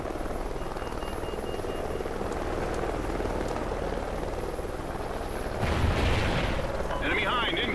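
A military attack helicopter in Call of Duty: Ghosts multiplayer thrums with a steady rotor chop alongside scattered gunfire and explosions, rising louder near the end, with game voice callouts over it.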